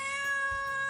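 A newly adopted cat gives a single short, clear meow close by, loud and alone.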